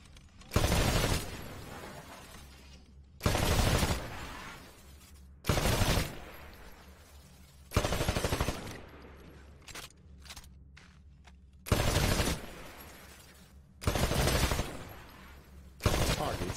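Rifle fire at shooting-range targets in the video game Titanfall: seven loud, sharp bursts of gunfire at regular intervals of about two seconds, each trailing into a brief echo, with faint background ambience between shots.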